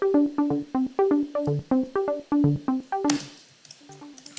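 A dry Moog synthesizer plays a bright, plucky arpeggio of short repeating notes in a steady, quick rhythm, close and unprocessed, until a burst of noisy high sound cuts in near the end.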